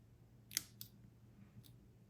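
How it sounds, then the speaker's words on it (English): Small scissors snip delicate paper flower stamens for a scrapbooking craft, two quick crisp snips close together and a fainter third one after a pause, close and quiet with no talking. "with your scissors, you want to cut these little septums here"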